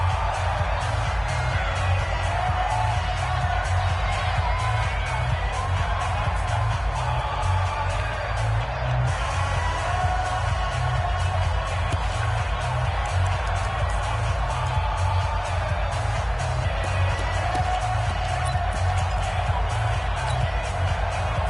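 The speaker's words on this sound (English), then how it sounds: "The crowd getting into it as we come up on a big 3rd down." A football stadium crowd roars and cheers ahead of a big third down in a Colts and Cardinals game, a dense, steady wall of noise with scattered whoops and indistinct voices mixed in.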